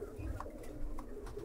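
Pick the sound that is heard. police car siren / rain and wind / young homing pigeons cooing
young homing pigeons cooing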